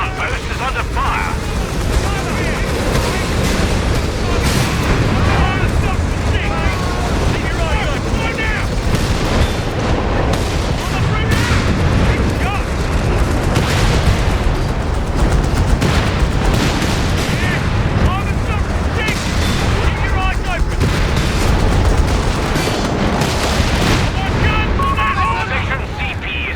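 Dense, continuous combat at a command post in Company of Heroes 3: overlapping gunfire, booming explosions and rumbling artillery fill the whole stretch at steady high volume, with voices mixed in underneath.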